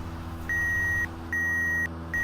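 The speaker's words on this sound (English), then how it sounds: "There we go, the visibility alarm going off again." A visibility alarm beeps in the flight and air traffic control video game Red Griffin ATC, three loud, steady electronic tones each about half a second long, repeating at even intervals with no talking.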